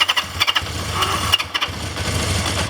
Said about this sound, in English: Oh, starter motor's a bit lazy.